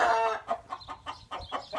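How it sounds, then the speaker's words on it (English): A chicken clucks close by in a series of short, choppy calls, about half a dozen clucks in quick succession with no talking. "Can you talk louder than a chicken?"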